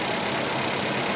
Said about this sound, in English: yeah, again, good sounding engine